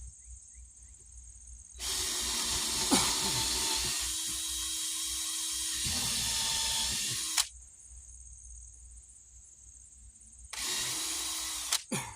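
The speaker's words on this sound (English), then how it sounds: "battery drills." A cordless battery drill used while installing a new rim joist on a mobile home runs in two long bursts, the first about six seconds with a change in pitch partway through, then a shorter burst near the end, with quiet pauses between.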